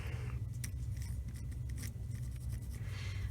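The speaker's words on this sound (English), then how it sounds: "So, I'm just gonna write cilantro." Pencil writing on a wooden craft stick used as a garden plant label, a close, soft scratching with a few brief sharper strokes, over a low steady background hum.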